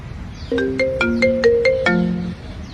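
A melodic phone ringtone in a 2D animated cartoon plays a short run of bright, synthetic notes, clear and close, with no voices over it.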